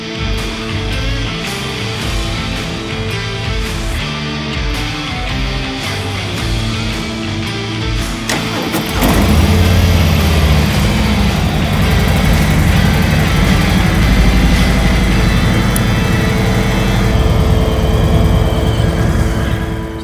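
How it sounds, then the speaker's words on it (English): Harley-Davidson Milwaukee 8 Touring motorcycle fires up about halfway through, its loud engine settling into a steady, deep, throbbing idle that holds to the end without talk. "then we're gonna fire the bike up because we're gonna wanna check the oil level when it's warm"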